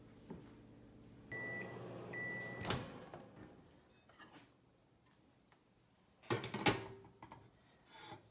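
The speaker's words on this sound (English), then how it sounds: "we're going to put it in the microwave for 30 seconds" A microwave melting chocolate hums with a low drone, a few beeps, ticking and a door clunk, all quiet and close.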